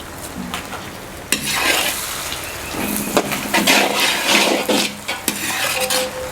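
Curry leaves sauté in hot oil with ginger and garlic for Tamil Nadu-style Pallipalayam chicken, giving a steady close sizzle broken by sharp spoon scrapes and clinks against the pan.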